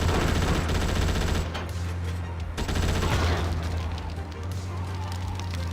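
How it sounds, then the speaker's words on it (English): Rapid gunfire in GTA Chinatown Wars comes as a dense, continuous barrage of shots over a steady low engine drone, loud throughout with a brief dip partway. "Someone's rapid firing you?"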